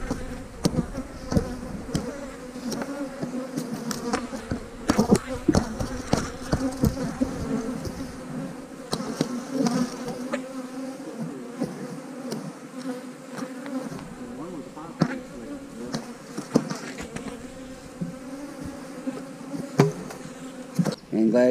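Honeybees buzzing densely around an apiary bee yard during hive splitting, a continuous swarm hum with individual bees zipping close past, faint knocks in the background.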